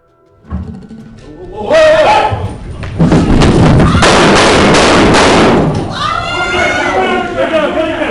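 Gunshots fired by a U.S. Marshal in a courtroom, loud bursts of sharp bangs amid shouting and screaming voices, chaotic and close, with a sustained roar of noise through the middle.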